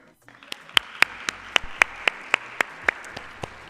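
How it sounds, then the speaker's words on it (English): A small audience at a GEO-18 conference session gives a round of applause for two jurors, a sparse run of distinct, evenly spaced claps from just a few hands, fairly close. "a round of applause to the two jurors"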